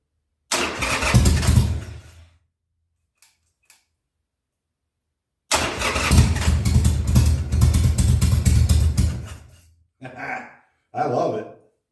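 A 2000 Harley Sportster 1200C motorcycle, first start in six years, cranks and briefly fires in loud rough bursts, falls silent, then catches again for a few seconds before sputtering out and making two short further attempts.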